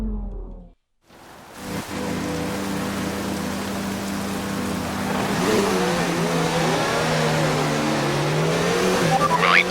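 A Formula 1 car in the F1 2019 racing game pulls away after a brief silence, its engine note climbing steadily through the gears and sweeping up in pitch, alone and growing louder toward the end.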